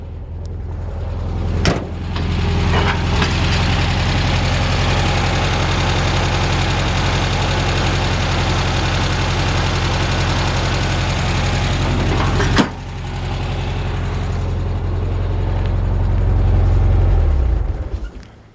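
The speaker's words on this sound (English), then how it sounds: "Engine sounds great." A 1976 Volkswagen Beetle convertible engine idles steadily with a continuous mid-pitched rattling hum, close and loud, with a sharp knock near the start and another partway through, then a slight swell before it cuts out.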